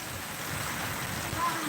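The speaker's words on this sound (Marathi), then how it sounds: "पावसाचा जोर आणखी वाढलेला आहे हवा आणि पाऊस जोरदार तुफान" Heavy rain and strong wind in Kinwat taluka, Nanded district, form a broad continuous roar and rumble that buffets the microphone, steady and loud with no distinct drops.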